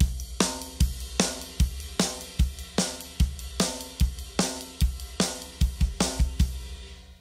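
A basic rock and roll drum groove plays with steady eighth notes on the ride cymbal over regular kick and snare hits. It is close, clean and evenly paced, with no talk.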